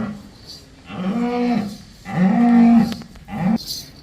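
A black Jersey cow on a dairy farm moos three times in close succession, loud and near, each low call drawn out with a brief pause between.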